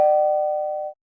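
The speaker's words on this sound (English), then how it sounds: "we hear a doorbell ring" A single bright electronic doorbell tone rings once at a house door, loud and clean, sustaining for nearly a second before cutting off abruptly.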